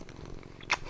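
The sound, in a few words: cat purring, a Ragdoll cat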